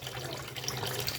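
Running tap water splashing steadily as fish are washed under it at home, a continuous close hiss with small drips, no talking.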